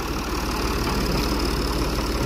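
A tractor engine idles steadily during tree felling, holding a continuous low rumble with a faint knocking texture throughout, close by and alone without speech.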